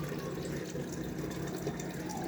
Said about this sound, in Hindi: पानी ले रहे हैं आर का, और ये आर फिल्टर है